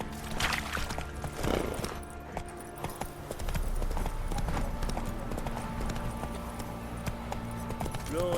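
Horse Roach's hooves clip-clop steadily on a surface in The Witcher 3, a continuous rhythmic trotting with a low background hum and game music, no talk over it.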